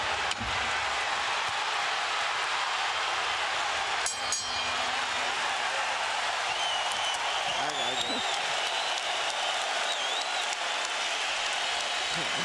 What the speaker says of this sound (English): As the crowd stands en masse to applaud, Emmanuel Stewart stands and applauds